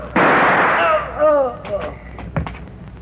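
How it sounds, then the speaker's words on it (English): Gunshot effect in a 1950s old-time radio drama, one loud sharp blast followed by a ringing decay, then a few short clattering knocks and a low thud nearby. "Don't, Jones, you shoot"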